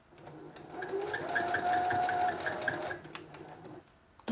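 A sewing machine backstitches a red dress in a steady, close whirring run of a few seconds, slowing and stopping near the end.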